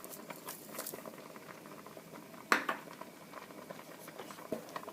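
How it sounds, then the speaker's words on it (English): Homemade tomato paste at a rolling boil in a pot bubbles with soft, uneven popping and patter, close by and fairly quiet. A single sharp clink cuts in partway through. "we do have a bit of a rolling boil here"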